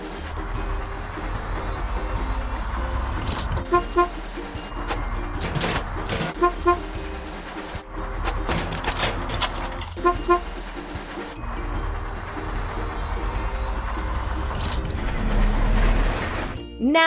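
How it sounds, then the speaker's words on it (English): Garbage truck in a children's construction video game, with repeated short horn toots over mechanical whirring and playful game effects, ending in a louder burst; no talking. "Garbage truck."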